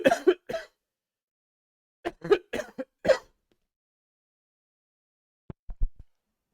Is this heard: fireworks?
no